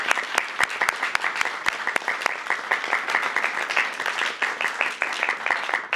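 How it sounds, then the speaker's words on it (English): Audience applause at the White House honoring school leaders and students, a dense crowd of clapping hands with a few sharp, close claps standing out, with murmured voices underneath. "Give yourselves a round of applause."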